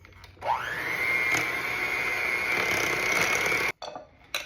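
Electric hand mixer beating softened butter, cream cheese and vanilla for carrot cake frosting, spinning up quickly to a steady high whine, then cutting off and briefly restarting.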